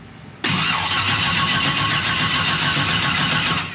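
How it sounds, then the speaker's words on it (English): A turbocharged LS engine in a Mustang cranking over on the starter without firing, trying to build oil pressure; a steady, loud, continuous cranking drone that kicks in abruptly after a brief quiet moment and runs unbroken. "I've been cranking on it a little bit at a time, trying to get it to build oil pressure."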